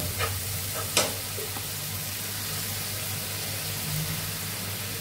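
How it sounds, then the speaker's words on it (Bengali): Spices fried down in a pan with coriander powder, salt and tomato give a steady, even sizzle throughout, with a few soft stirring scrapes near the start. "একটু ভালো করে মশলাটা কষানো হবে।"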